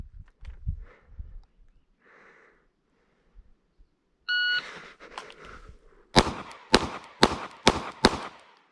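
A shot timer beep sounds, then five sharp, evenly spaced Glock 42 pistol shots crack out close by on a range, preceded by faint handling noises.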